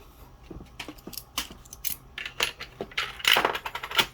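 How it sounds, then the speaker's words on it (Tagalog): Coins dropping one after another into the coin slot of a PisoWiFi vending machine fitted with a SubVendo board, a close, irregular series of bright metallic clinks and rattles that grows busier toward the end. "tapos lagyan natin ng barya."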